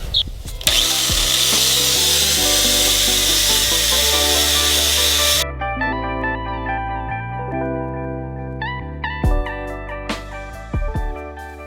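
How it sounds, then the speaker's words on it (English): Power tools working rust off the frame of a 1978 Ford F-250, a loud whining motor with shifting pitch and grinding contact noise, a burst of harsh broadband grinding early, then varying tool whine with brief pauses; no talking. "I was using the wire wheel on this and it got all the rust off, but then I used like a grinder wheel"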